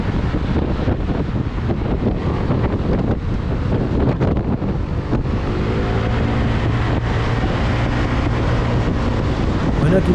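Steady loud scooter engine drone with heavy wind buffeting the microphone, continuous throughout as the scooter keeps moving at speed on an empty highway.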